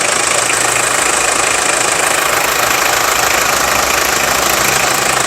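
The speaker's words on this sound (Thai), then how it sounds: "ฟังเสียงเครื่องยนต์นะครับ" A 2008 pickup truck engine idles steadily nearby, a loud, even diesel-like rumble with a faint knocking texture and no other sounds.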